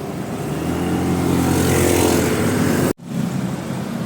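Honda Click 125 v2 scooter engine running, close and loud, a steady droning hum that cuts out abruptly near the end before picking up again.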